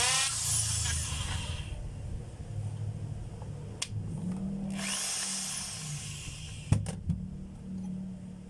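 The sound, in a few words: power drill running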